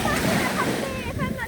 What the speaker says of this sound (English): Yes, I see the rain pouring hard.